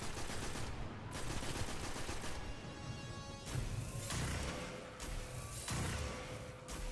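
Rapid bursts of automatic gunfire from Destiny's Devil's Lair Nightfall strike, loud and continuous with sharp overlapping shots and a few heavier crashes, without voices.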